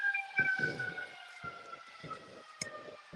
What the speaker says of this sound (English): as I try and dodge these sirens